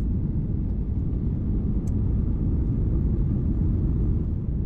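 Steady, loud low-frequency cabin rumble inside a Malaysia Airlines airliner approaching landing on a Jakarta to Kuala Lumpur flight, a constant engine and airflow drone with one faint brief click.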